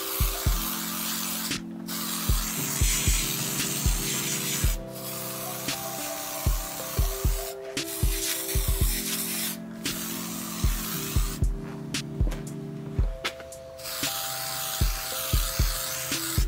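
Wax and grease remover is sprayed onto a car body being prepared for wrapping, with short hissing bursts from the spray bottle and soft rubbing in between, heard close.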